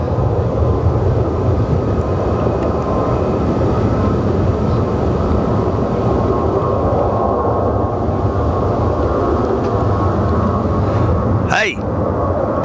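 A SkyWest airliner takes off from runway 15 right at Houston's George Bush Intercontinental Airport, heard as a loud, steady jet roar that fills the whole clip, with radio-style speech and a brief sweeping tone near the end.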